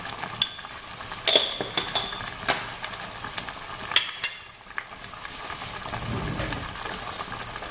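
Meat frying in a pan with onion, garlic, tomato and peppers, a steady close sizzle broken by sharp utensil clinks and scraping stirs.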